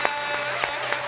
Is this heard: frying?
no